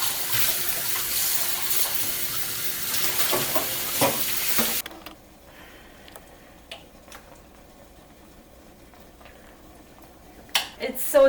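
Seafood pasta is stirred in a frying pan, a soft sizzling and scraping swirl for a few seconds, then quieter faint clinks and scrapes with a burst of louder clatter at the end.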